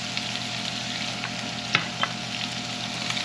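Onion and pepper frying in a pan, a soft continuous sizzle with a couple of sharp clicks of a utensil against the pan, faint and unaccompanied.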